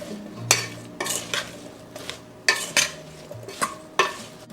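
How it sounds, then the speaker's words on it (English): Ingredients with garlic tossed together in a bowl to coat, a series of about ten sharp close clinks and scrapes of a utensil against the dish in an irregular rhythm, with no talk. "Then we're going to toss this all up, make sure that everything is coated really well with all that good stuff."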